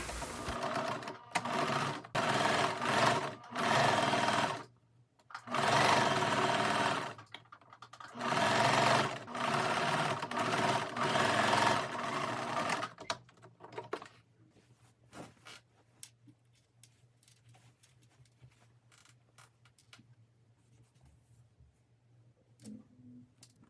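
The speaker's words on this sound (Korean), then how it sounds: "지퍼 노루발로 교체를 한 후에 지퍼를 박음질합니다" A sewing machine fitted with a zipper foot stitches a zipper on a dress in several loud bursts of rapid mechanical chatter separated by short pauses, then goes quiet apart from a low hum and faint handling sounds.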